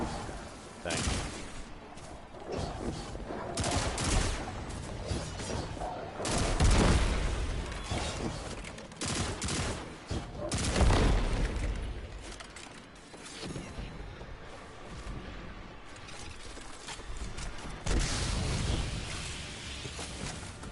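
Explosive-round gunfire crackles in Destiny 2 gameplay as a dense, continuous fusillade of booms and bursts, with heavier blasts at intervals, while a player talks over it.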